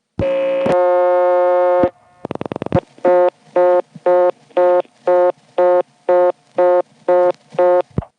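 Stromberg Carlson XY step-by-step telephone switching equipment in Fayetteville, Pennsylvania, 1976: a steady dial tone, a quick burst of mechanical clicks, then a regular series of about ten evenly spaced tone pulses, with no talking.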